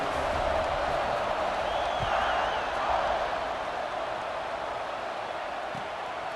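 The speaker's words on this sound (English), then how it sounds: "this crowd is buzzing after that last score" Dense crowd buzz fills a college football stadium during a late fourth-quarter kickoff between South Carolina and Alabama in Tuscaloosa, a steady roaring murmur with a brief whoop rising above it midway.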